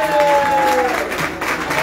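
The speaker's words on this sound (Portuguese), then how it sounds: "Pode bater palmas que ela merece" Applause from a group in a community gathering, clapping under a continuous wash of crowd noise with a voice briefly audible.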